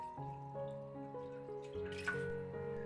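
Clean water is poured into a bowl of minced garlic, giving a short, bright trickling and splashing with tonal ringing that swells toward the end.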